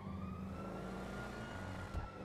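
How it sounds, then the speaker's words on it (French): A police siren in a GTA roleplay game, a faint steady wail under a loud idling car engine rumble, continuous throughout. "j'ai entendu une sirène"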